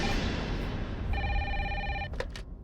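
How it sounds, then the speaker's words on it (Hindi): Official landline telephone in a women's police station ringing, a short electronic trill burst followed by brief clicks, moderately loud over a noisy room background with no talk. "कैसा फोन है, फिर भी बज रही है।"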